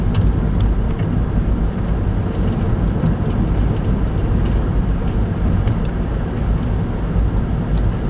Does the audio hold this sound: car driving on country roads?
yes